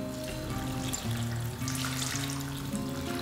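Cold water streams steadily over finely cut potato sticks in a kitchen, a close, continuous splashing and trickling with no speech.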